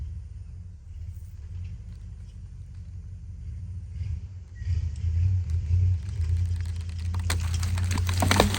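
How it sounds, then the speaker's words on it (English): A truck engine rumbles steadily at low pitch, swelling louder partway through as it revs, with some rattling toward the end. "You'll listen to the truck."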